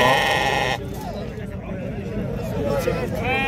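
Sheep bleat at a weekly livestock market in El Hajeb, with several loud, wavering calls close by, one at the start and more near the end. People talk steadily over a crowded, noisy background.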